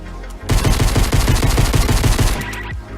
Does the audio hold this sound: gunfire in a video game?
yes